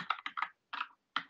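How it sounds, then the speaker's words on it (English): Close typing on a computer keyboard, with short bursts of crisp keystrokes separated by brief pauses. "So what I can do is just type in here."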